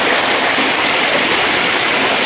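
Overflowing floodwater pours and rushes through a street during a typhoon, a loud, dense, continuous roar of water heard up close with no talk over it.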